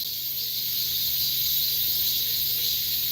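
Cicadas drone at Heungcheonsa temple in a dense, unbroken high-pitched buzz that stays steady and loud for the whole stretch, with no voices over it.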